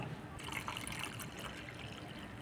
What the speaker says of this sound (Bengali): এই জলটার সাথে আরও 1 লিটার মতন জল আমি মিশিয়ে নেব